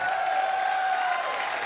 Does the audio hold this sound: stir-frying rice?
no